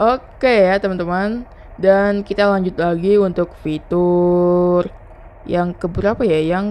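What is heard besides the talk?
None of the usual background noises is heard.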